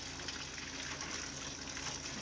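Steady gush of tap water running while clothes are washed by hand, a continuous close, even rush with no talking.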